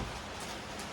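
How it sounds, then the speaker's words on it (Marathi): Heavy rain falls in a steady, even wash of hiss with no pauses, quiet and diffuse throughout the brief moment, with no voices. "तर पाऊस बघ केवढा पडतो."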